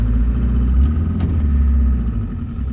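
A Land Rover Discovery 1, abandoned on a farm for twenty years, drives in second gear with a sticky throttle, its engine giving a loud, steady low rumble that holds close and continuous throughout.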